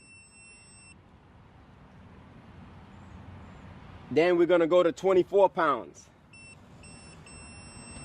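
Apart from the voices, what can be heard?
workout timer beeping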